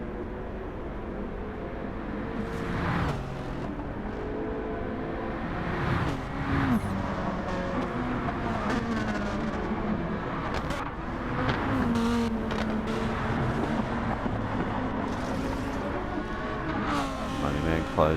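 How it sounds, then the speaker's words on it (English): Race cars lap the Bathurst circuit in the Gran Turismo 7 video game, a continuous engine roar with repeated rising and falling revs and passes, heard under a commentator's voice. "Closing in on the back of Jeffrey's car here"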